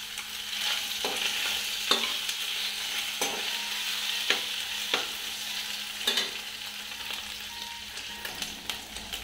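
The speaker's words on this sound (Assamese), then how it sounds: "এয়া মই মাছৰ পেটু আৰু মাছৰ কণী ইয়াত দি ল'ম, অলপ ভাজি ল'ম।" Fish belly and fish roe frying in oil, giving a steady close sizzle with regular spatula strokes scraping the pan roughly every second, with no voices.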